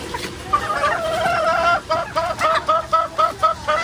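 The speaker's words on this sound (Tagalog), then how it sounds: "Si Bal po ngayon ay nagpapakain na po ng mga alaga po ni Papang manok." Chickens being fed call close by, repeated gobbling and clucking notes in a quick rhythmic series, with faint background noise.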